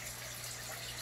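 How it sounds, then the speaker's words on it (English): Steady rushing gush of water poured or running from a tap into a fish room aquarium during a water change, continuous and fairly faint, with no voices. "We're going to be doing a little water change on this one"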